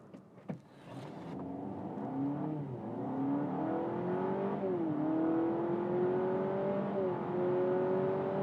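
A 2023 Honda Civic e:HEV hybrid accelerates from inside the cabin with a smooth rising engine tone. The pitch drops back at several simulated gear changes, each followed by another climb. A brief click comes at the start.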